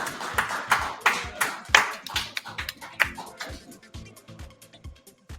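Scattered applause from a small audience at a digital slot car race at Rockingham, honouring the second-place team; uneven, thinning claps come in bursts, with brief voices over them.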